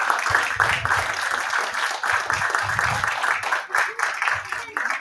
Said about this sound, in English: Can we have a huge round of applause, please?